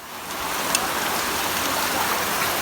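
Heavy rain pours steadily over flood water outdoors, a dense, unbroken hiss and wash of water that fills the scene at a loud, even level without a break.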